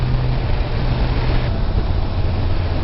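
A Kawasaki Versys 1000 SE motorcycle accelerating in sixth gear, a steady loud low engine drone mixed with rushing wind, pulling smoothly throughout.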